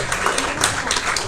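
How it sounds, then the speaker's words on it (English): A carnival presentation evening audience applauds first responders with steady, dense clapping that continues throughout at an even level. "Give these people a nice round of applause"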